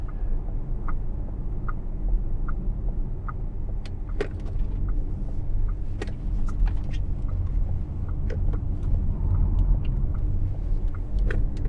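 Ford F-150 Lightning electric truck driving through turns, a steady low road rumble inside the cab with occasional faint clicks and ticks, no talk.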